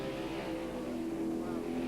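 TVR Tuscan race cars with 4.5 litre V8 engines at full song around Donington circuit, a loud, steady engine roar with sustained harmonic drone throughout.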